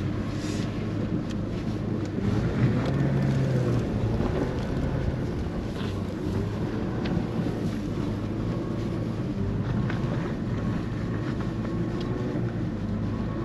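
Mercedes-Benz W164 ML63 AMG doing all-wheel-drive donuts in snow, a steady loud engine drone with wind rumble continuing throughout, no voices.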